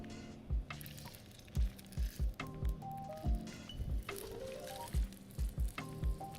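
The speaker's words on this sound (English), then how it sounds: "All right, shrimps go in." Raw shrimp for shrimp scampi hit a hot pan and fry with a steady sizzle, broken by repeated dull knocks and clatter from stirring and the pan, close and moderately loud.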